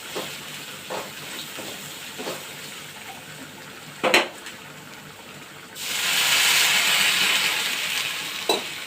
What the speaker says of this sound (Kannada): ಸ್ವಲ್ಪ ನೀರು ಹಾಕಿ ನೋಡಿರಿ ಕುದೀಲಿಗಿದು